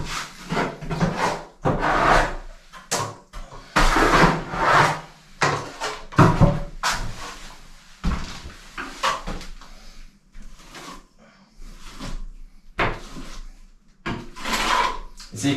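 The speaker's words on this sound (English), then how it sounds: "So you kind of tilt your trowel, tilt it to the existing wall, push it in, and it forces the plaster to close in on the edge." A steel plastering trowel presses a finer second coat of plaster into the edge where new plaster meets an existing wall, giving repeated close, loud scraping and rubbing strokes in uneven bursts with brief pauses.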